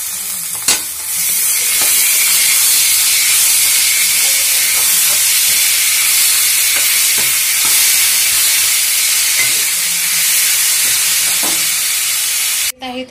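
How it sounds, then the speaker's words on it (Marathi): Chopped tomatoes go into hot oil in a pan for a mix veg Kolhapuri masala and sizzle loudly and steadily up close, a dense frying hiss with faint clinks underneath and no talking. "तर आपल्याला ह्याच्यामध्ये टाकायचं आहे आता टोमॅटो।"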